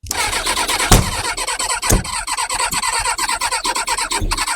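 A Kawasaki ZX6R motorcycle engine cranking on a first start attempt, a loud close rapid chugging that keeps turning over without catching, with a couple of sharp pops.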